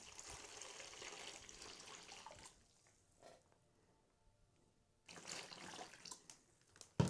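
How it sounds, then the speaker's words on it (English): Water from a shower head or tap splashes into a bag during a shower head descaling job, a steady broadband rush for about two and a half seconds, then quiet, then a second burst of pouring near the end. "Put a little water in there with it."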